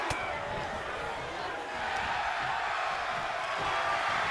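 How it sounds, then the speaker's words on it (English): Roaring crowd noise from an arena audience in the WWE 2K22 wrestling video game, a loud sustained wash of cheering that holds steady throughout, with a brief dip before swelling again. "The sound of this crowd is deafening, and he's asking for more."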